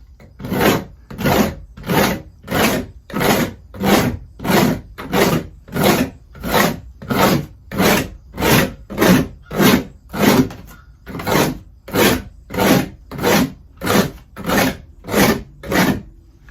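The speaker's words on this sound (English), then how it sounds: "scrape that away. Cuts off the black foam." Close, loud rhythmic scraping as an X-Acto knife strips black foam away, a steady back-and-forth rasp repeating roughly every two-thirds of a second.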